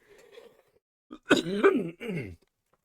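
A single throat-clearing cough from a person with lingering whooping cough, close and fairly loud, with a faint murmur just before it.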